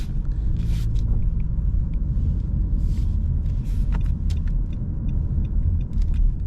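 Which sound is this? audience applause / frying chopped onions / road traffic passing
road traffic passing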